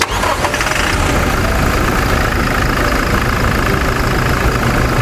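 A 2022 Toyota Hilux Revo 2.4 Entry Prerunner Double Cab pickup idles just after starting, its 2.4-litre engine giving a loud, steady, close-up rumble with no talking over it.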